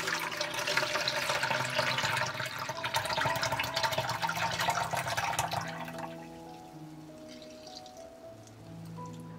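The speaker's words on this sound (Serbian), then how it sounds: "Đubrivo je odstojalo 24 sata i sada ću ga procediti." Homemade liquid garden fertilizer is poured through a strainer. A steady close splashing trickle runs for about six seconds, then tapers into fainter dripping and gurgling, with no talking.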